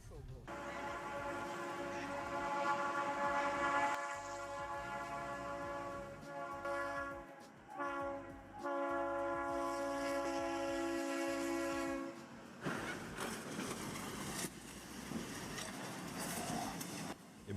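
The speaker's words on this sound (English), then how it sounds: "Imagine the amount of destruction if the train was going fast." A train rolls past slowly, with a long sustained horn blast sounding for about twelve seconds, then rumbling, clattering wheels on rail; the sound is distant and fairly faint, and voices talk faintly at times.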